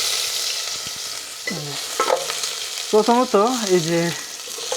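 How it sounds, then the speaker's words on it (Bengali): Spices frying in oil in a pan, readied before ginger-garlic paste goes in for a home-cooked chicken gizzard dish; a steady close sizzle hisses throughout while a person talks over it. "পেস্ট দেওয়ার আগে তেলটা দিয়ে একটু মশলাপাতি দিয়ে তারপরে এই আদা রসুনটাকে বাজবেন"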